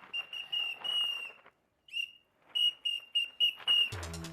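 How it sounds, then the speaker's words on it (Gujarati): A shrill whistle blown in a series of short and long blasts with a brief pause partway through, loud and close, then a burst of other noise at the end. "આ સીટી કોને આપી તને?"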